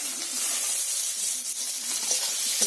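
Onion and chopped tomato fry in a pan with a steady, close, moderately loud sizzle and faint stirring scrapes, no voices.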